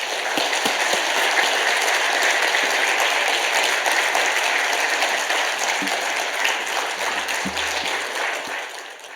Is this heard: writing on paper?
no